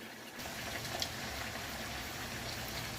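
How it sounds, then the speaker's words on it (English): Chicken drumsticks with fresh thyme frying in a pan, a steady close crackling sizzle that holds evenly throughout with no talking. "Here we're gonna let them fry for 2 to 3 minutes too"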